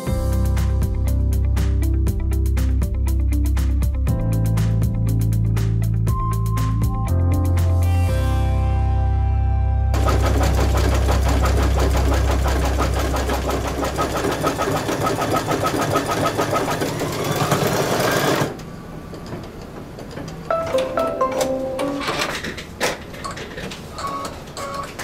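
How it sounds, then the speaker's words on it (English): An embroidery machine sews satin stitching for a scarecrow design, with a rapid mechanical chatter and hum that shifts pattern partway through, then turns quieter with intermittent ticking near the end. "The next one is a 15-minute stitch or 17-minute stitch on my machine, and it's going to do the final satin stitching for the outside of the arms."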